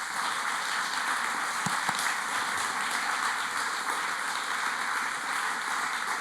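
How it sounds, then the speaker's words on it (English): An audience at a Big Canoe POA town hall gives sustained applause for an award winner, a dense, even wash of many hands clapping, with one or two sharper knocks. "I kindly request that we acknowledge his achievements with a warm round of applause"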